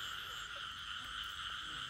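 A night frog chorus rings out during a frog hunt, a steady, even trilling drone from many frogs with no distinct individual calls, constant and moderate in level with no voices.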